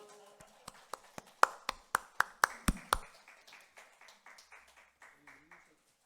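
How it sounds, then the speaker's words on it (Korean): Clapping at a Sunday joint church service as children receive skateboards as gifts: about ten sharp, evenly spaced claps grow louder, then fade into softer scattered taps before a pause and faint speech. "박수."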